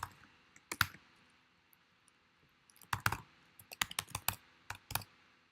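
Sharp, close clicks of a computer keyboard come in a short burst, then a pause, then a quicker irregular run as an email address is typed, quiet against faint background hiss.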